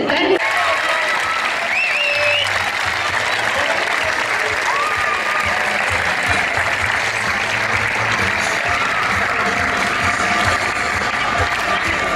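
Loud, sustained applause from a tennis crowd at the Napoli Cup, honoring the umpire and ball kids; dense continuous clapping fills the whole stretch, with a few faint whistles and voices mixed in.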